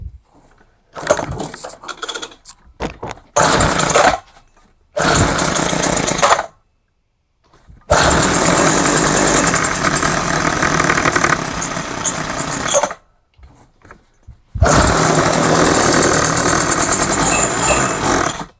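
A gas hedge trimmer engine sputters through repeated start attempts, catches and revs loudly for several seconds, dies, then roars back up, all close by with no talking.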